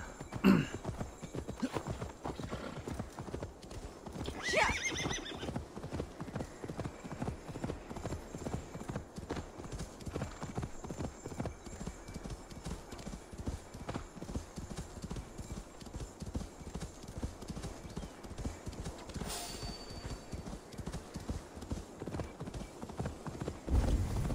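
Horse hooves clip-clop steadily in a quick, even rhythm while riding in Assassin's Creed Valhalla, close and continuous, with an occasional snort or whinny and a brief voice over the hoofbeats.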